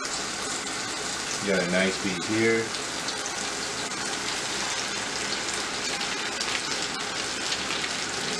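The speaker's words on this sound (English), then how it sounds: "we about to put the chicken inside of the oil, canola oil, after we did the breading" Breaded chicken frying in hot canola oil in a fryer, a continuous close, rain-like crackling sizzle running throughout, with someone briefly speaking over it early on.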